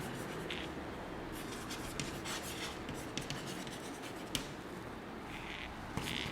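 Pen or pencil writing out a maths sum for a fifth-grade lesson, continuous close scratching strokes in quick irregular bursts, fairly faint and with no talk.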